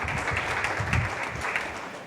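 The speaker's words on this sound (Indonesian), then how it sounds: "berikan tepuk tangan meriah buat Tuhan kita, Saudara." Applause from a church congregation during an online worship service, a dense steady patter of many hands that stays fairly even for about two seconds, with some low voices and noise mixed in underneath.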